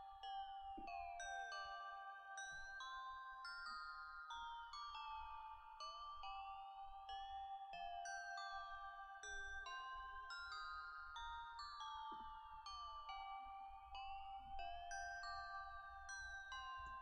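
Synthesized bell melody programmed for a plugg-style beat in Bitwig, bright chiming tones ringing in a repeating looped pattern over a soft low-end pulse, clean and steady with no voices.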